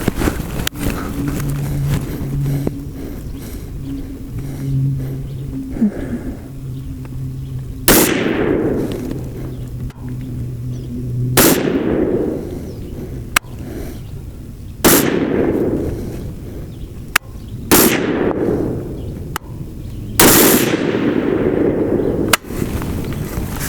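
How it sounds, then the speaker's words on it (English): Five rifle shots from a Lead & Steel JAG carbine firing M193 ammunition at an outdoor range, loud sharp cracks spaced a few seconds apart, each trailing a decaying echo, over a low background hum. "All right, that was 5 shots."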